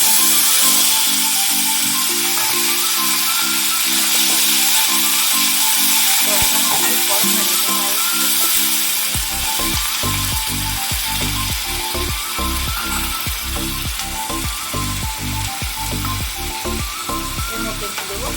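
Onion paste frying in hot oil with dry red chilli and nigella seeds for a tel koi (climbing perch) fish curry: a loud, continuous sizzle over a low rhythmic thumping that grows busier halfway through.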